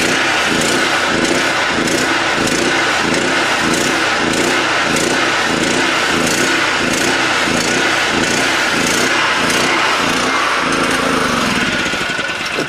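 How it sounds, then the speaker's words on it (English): Small generator engine running on HHO fuel, a loud, steady, rough mechanical drone with a rapid pulsing beat that continues without a break from start to finish. "You don't like the generator, do you?"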